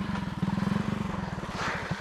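Motorcycle engine idles close by with a rapid, even putter of firing pulses, revving briefly near the end, with no voices heard.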